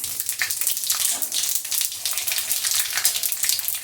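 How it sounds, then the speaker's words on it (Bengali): Panch phoron spices dropped into hot oil already frying dried red chillies and bay leaves for hing kachori, giving a dense, steady crackling sizzle with quick popping bursts, close and continuous throughout with no voices. "দিচ্ছে পাঁচফোড়ন।"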